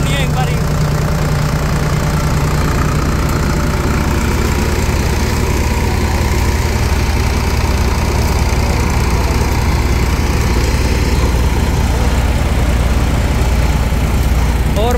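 A loud, continuous rumble of a multi-speed cutter thresher running close by, droning steadily throughout with people talking underneath.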